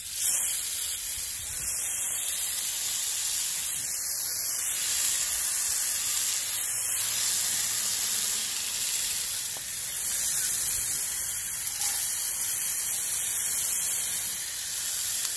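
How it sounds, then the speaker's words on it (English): Water hose rinsing the condenser coils of an HVAC unit during maintenance, a steady bright spraying hiss that runs loud and continuous throughout with slight fluctuations as the stream moves across the coils. "Now I'm rinsing the coils."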